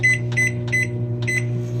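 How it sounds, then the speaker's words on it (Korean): Microwave oven running while heating steamed egg, a steady low electric hum with a few regular high beeps on top, close and clear. "전자레인지에 넣고 약 2분에서 3분 정도"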